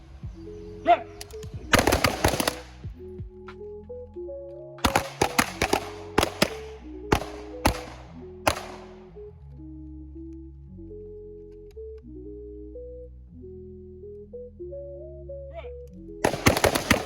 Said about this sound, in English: Transition to your handgun, 2 rounds, and back.